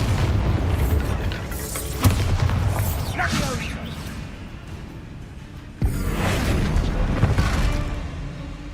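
Bombarda blasting-spell explosions in the video game Hogwarts Legacy, two booming bursts with whooshing debris roaring over a dense, loud game soundscape, a voice speaking alongside.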